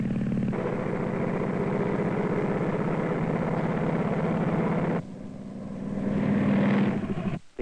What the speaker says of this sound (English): we decided to extend the experiment to flying an airplane